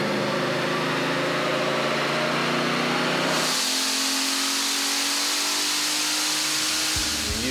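A Hellephant engine in a custom car roars at high revs, very loud and close, holding a sustained howl that shifts pitch midway before easing slightly.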